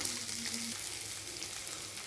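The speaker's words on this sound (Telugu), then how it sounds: "పోపు ఉల్లిపాయలు పచ్చిమిరకాయలు అన్నీ చక్కగా వేగిపోయాక" Onions and green chillies fry in a hot oil tempering for a ridge gourd curry, a steady close sizzle and crackle heard alone throughout.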